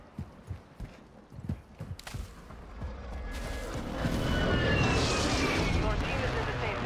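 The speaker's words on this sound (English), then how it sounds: "Friendly precision airstrike inbound." Precision airstrike explosions in Call of Duty Warzone 2.0 build from sharp, scattered thuds into a broad, sustained rumbling roar, moderately loud, with a voice speaking early on.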